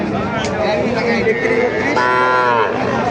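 Calves mooing at Raniganj cattle market, a long drawn-out bellow rising loud and close over steady market chatter and crowd noise.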